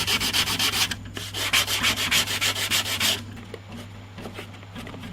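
Sandpaper rubs back and forth on a lacquerware piece in quick, steady strokes, loud and close at first and then lighter and quieter toward the end, with no voices.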